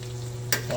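Onions frying golden brown in a pan give a steady low sizzle, with a brief stirring scrape about halfway through.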